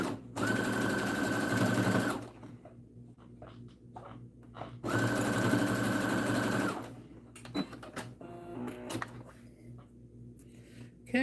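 A sewing machine stitching a black fabric pencil pouch runs in two steady, whirring bursts of about two seconds each, close and loud. Quieter handling clicks and fabric rustling fill the pause between and after the bursts.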